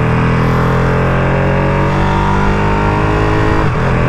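A 2023 limited edition Ducati Panigale V2 motorcycle accelerating hard, its loud close engine note climbing steadily with a brief dip near the end as the quick shifter changes gear.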